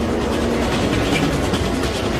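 An underground train pulls into a station platform, a steady, dense roar of rushing air and rolling wheels that fills the space at constant loudness with no voices.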